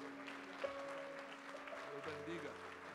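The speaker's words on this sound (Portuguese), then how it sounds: "Uma salva de palmas para a Nigéria." A church congregation applauds during a missions service, the clapping fairly faint and blended with sustained organ or keyboard tones and some background voices.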